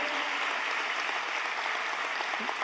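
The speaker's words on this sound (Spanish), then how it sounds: "Del otro aplauso a Jesús" A church congregation applauds in a dense, steady wash of clapping that holds even throughout, heard at a moderate distance with no voices standing out.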